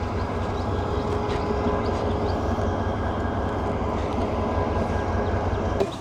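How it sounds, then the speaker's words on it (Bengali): The Rupashi Bangla Express, running from Dhaka to Benapole, pulls into a station platform at night with a steady, loud rumble and a constant mechanical drone. "আমাদের ট্রেন চলে আসছে"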